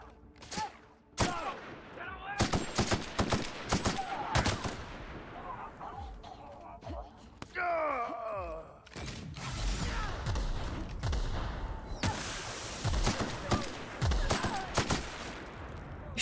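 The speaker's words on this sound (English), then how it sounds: "You're shooting at me, moron." Gunfire in The Outer Worlds, Peril on Gorgon expansion: rapid, loud automatic bursts and single shots crack repeatedly amid whooshing and mechanical game effects, broken by short pauses.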